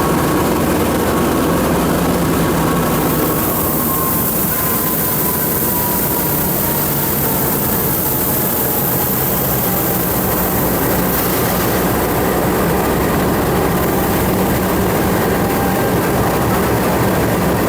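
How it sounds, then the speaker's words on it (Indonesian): A loud, continuous low engine rumble of a heavy freight train stopped or moving slowly at a station in Indonesia, with a faint whining tone drifting across it. "Ada kereta barang yang berhentinya cuma sampai sini."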